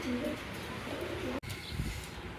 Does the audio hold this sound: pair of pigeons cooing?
yes